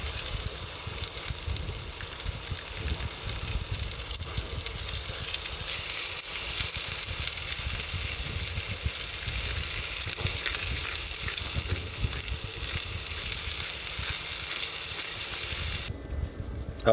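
A porterhouse steak fries on an induction cooktop at a remote station campsite, giving a loud, continuous sizzle and crackle that holds steady for the whole stretch.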